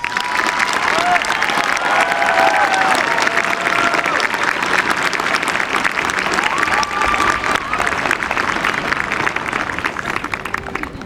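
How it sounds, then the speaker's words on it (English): A large crowd applauds graduates at Lawrence High School's 2025 graduation ceremony, dense sustained clapping with some cheering that stays strong for about eleven seconds, with voices mixed in. "Please give them a round of applause."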